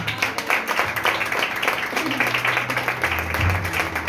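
A church congregation claps for Jesus during a worship service, an irregular burst of applause mixed with a low hum of voices and background music.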